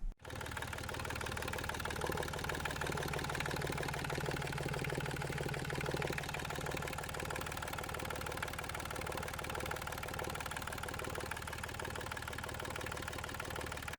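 An engine turns over and catches almost at once, then settles into a steady, even idle that runs on continuously with a mechanical clatter.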